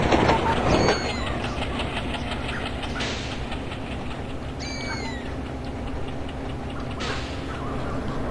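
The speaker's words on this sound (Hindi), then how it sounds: "ट्रेन अभी स्लो हो चुका है क्योंकि मैंने अभी सिग्नल देख लिया है।" A simulated diesel train, a WDM3A locomotive hauling the Garib Rath Express in the Open Rails simulator, rumbles steadily along with a continuous rolling drone and faint rhythmic clicks, and brief high squeals appear now and then.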